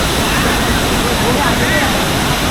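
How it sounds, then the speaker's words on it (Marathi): Roar of a large waterfall at Goa's Savari falls, a dense, steady wash of falling water filling the whole clip without break, loud and close, with rain falling around. "एवढा मोठा वॉटरफॉल आहे ना, काय सांगायचं तुम्हाला"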